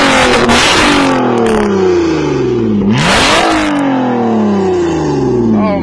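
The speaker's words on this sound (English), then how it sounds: "the car is a little bit louder" A Lotus Evora sports car engine, louder than stock, revs hard twice, the loud roar sweeping up and falling back, close and dominant throughout.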